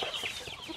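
Native chickens clucking softly nearby, a short soft cackle over faint background noise.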